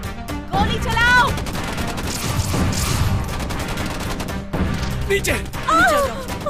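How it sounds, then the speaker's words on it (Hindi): Rapid bursts of gunfire and crashing impacts fill an action movie scene, dense and loud throughout, with shouting voices and cries cutting through the barrage. "चलो जल्दी गोली चलाओ।"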